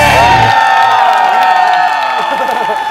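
Studio audience on a Korean variety show breaks into loud cheering and whooping applause, a dense crowd roar that fills the space and holds steady with shouts rising over it.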